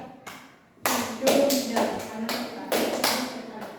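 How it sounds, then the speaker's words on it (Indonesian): A primary school class claps in a concentration clapping game, with several loud rhythmic bursts of clapping and tapping in irregular patterns, and voices mixed in. "Jadi tepuk konsentrasi seperti ini"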